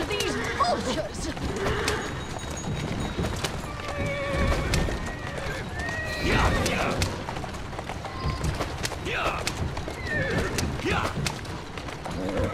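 A horse whinnies more than once over steady clip-clopping hooves pulling a carriage in a video game, with someone talking throughout and occasional clattering.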